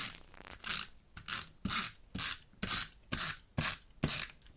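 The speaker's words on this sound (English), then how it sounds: "I'm going to bring in my tape runner." A tape runner laying adhesive onto paper for a craft layout, heard as a series of about eight crisp, rasping zips in a steady rhythm, close and fairly loud with brief pauses between strokes.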